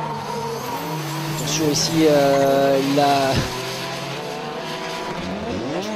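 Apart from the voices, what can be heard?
Nissan S14 drift car engine and tire squeal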